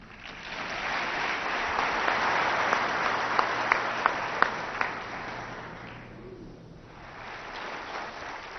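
A large conference audience applauds as the morning's speaker, Jim Cathcart, is welcomed on stage: steady, dense clapping across the hall with a few sharp individual claps standing out, holding for several seconds before easing off.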